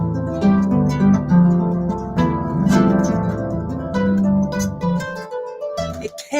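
Baroque flamenco harp improvising over a set structure, plucked strings ringing in full chords with rich low bass notes, played close and loud, then fading to a pause before a new stroke.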